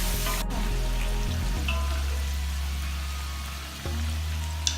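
Chicken frying in a pot with ginger garlic paste for haleem, a steady hissing sizzle with low bubbling, broken by a few clanks and a shift in the fry partway through, no talking.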